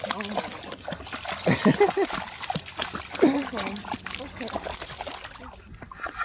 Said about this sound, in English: Oh, Chip, are you gonna go in the water?